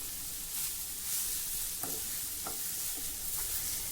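A grated fasting-dish mixture is stir-fried in a pan over a low flame, giving a steady close sizzle broken by a few soft scraping strokes of a spatula.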